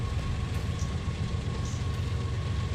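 Freight train BNSF 7318 in the Run 8 simulator pulls out of Victorville heading down toward Cajon Pass, giving a steady low engine rumble and rolling rail noise, continuous and moderately loud, with no one speaking.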